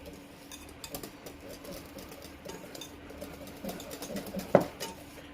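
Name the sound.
whisking icing sugar in a bowl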